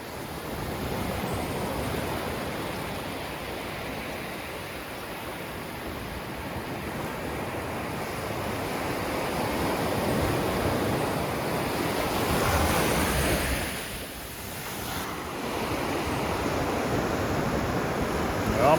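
Ocean surf washes onto the beach at Myrtle Beach, a steady broadband roar of breaking waves that swells and eases, with wind noise over the microphone and no talking.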